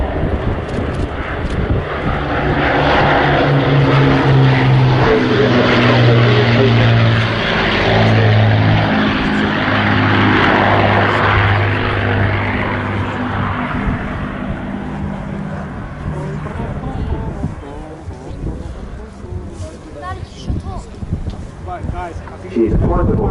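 Avro Lancaster PA474, a four-engine heavy bomber, flying at an air show at RAF Fairford, its droning propeller engines swelling loud and close with a throbbing multi-engine hum, then gradually receding under wind noise.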